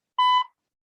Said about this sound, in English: At 8 minutes, I will sound a buzzer